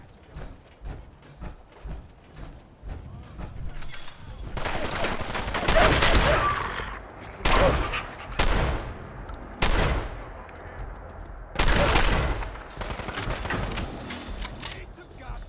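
Rapid bursts of gunfire in Fallout 4, a video game, with repeated sharp shots and heavier sustained volleys over a busy battle backdrop, while voices shout during the fighting.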